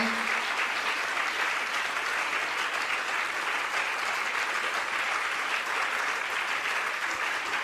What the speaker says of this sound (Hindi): ऐसे चातुर्मास कमेटी के लिए जोरदार ताली।